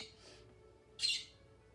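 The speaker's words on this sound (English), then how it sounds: "Please excuse my birds." Pet birds squawking indoors: a faint harsh call, then a louder, sharper squawk about a second later, against a quiet room hum.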